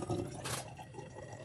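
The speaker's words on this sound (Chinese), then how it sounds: "给你们看看这款水槽的排水速度，" Water drains from a kitchen sink with a quiet, continuous gurgle and trickle, a faint steady flow heard close up with no voices.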